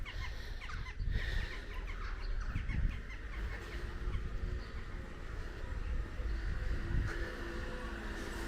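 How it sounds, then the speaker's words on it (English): Jackdaws calling noisily outdoors in a village street near a pub, a steady chorus of harsh caws over background traffic hum, fairly close and continuous. "As the jackdaws make a racket."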